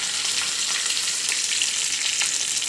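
Garlic, ginger, green chili and curry leaves fry hard in hot coconut oil after mustard seeds have popped. A loud, dense, steady sizzle carries on without a break.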